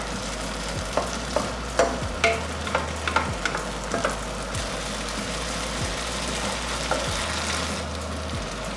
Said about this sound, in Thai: จะได้ยินเสียงป๊อปแป๊ป๊อปแป๊นั่นคือเสียงน้ำมันเริ่มแห้งแล้วค่ะ